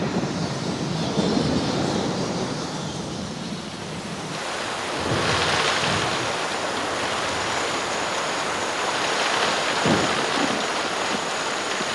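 Heavy tropical rainforest downpour with thunder, a dense, steady roar of rain filling the whole clip, with low rumbles swelling beneath it and no voices.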